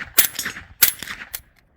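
A PTR 9CT pistol fires at a range, three sharp, loud reports in quick succession, each followed by a brief echo.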